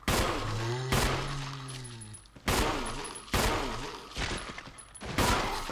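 Gunfire from the video game Resident Evil: four loud, sharp bursts spaced a second or so apart, each decaying into reverberant game ambience, with an eerie tonal drone near the start and no voices.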